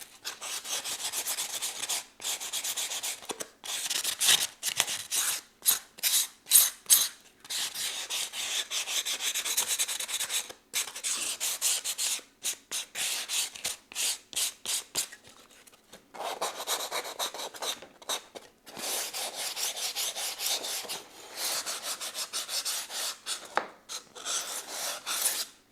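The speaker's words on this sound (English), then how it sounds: "now with a little piece of this sandpaper that is more smooth" Hand sanding with a small piece of fine, smooth sandpaper, likely on a craft bridge model, as a steady series of close, rasping strokes in uneven bursts with short pauses between, no talking.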